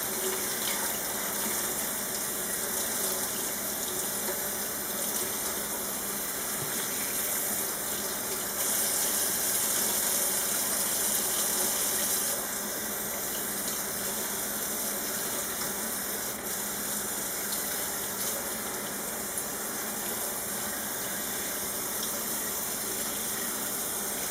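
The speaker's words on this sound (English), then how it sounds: "you want to basically continue to rinse until it rinses clean" Dyed cross stitch fabric rinsed under a running tap, a steady, continuous rush of water into a sink that stays close and even throughout, with no pauses.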